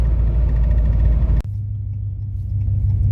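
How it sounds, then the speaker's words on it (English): A cammed Dodge Ram truck engine pulls hard on the highway at raised RPM. The loud, deep rumbling drone cuts off abruptly partway through, and a lower steady hum carries on afterward. "I just floored it, didn't even shift, so it still had the raised RPMs."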